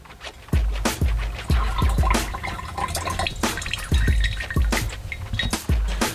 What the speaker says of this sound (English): So we're gonna go ahead and filter it first.